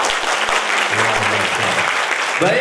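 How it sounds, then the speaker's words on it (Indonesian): Audience applause at a graduation ceremony for students of an Islamic boarding school in Makassar, a brief dense patter of clapping while someone speaks a short word over it. "Boleh minta tepuk tangan dulu?"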